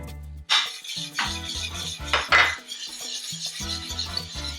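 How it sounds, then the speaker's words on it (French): Flour stirred into warm honey tuile batter in a bowl, with a utensil clinking and scraping against the dish in irregular knocks over a steady musical background. "on va maintenant incorporer nos 100 g de farine au mélange"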